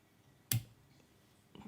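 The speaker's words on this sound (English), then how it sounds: "sharp pair of scissors" Sharp scissors snip thread while tying a Mallard & Claret wet fly, one crisp close cut followed by a fainter second click over a quiet room.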